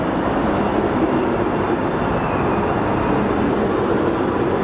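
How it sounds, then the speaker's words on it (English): A heavy, ten-year-old Boeing 777 jet departs from Phoenix Sky Harbor Airport with a loud, continuous, broadband engine roar that holds steady throughout, without talking. "heavy Boeing 777 will depart the parallel"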